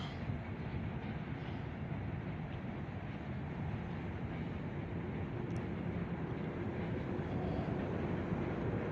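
A Union Railroad freight train with B&LE cars rolls past near a bridge, a steady, continuous rumble and roar that stays even throughout, with no pauses or voices.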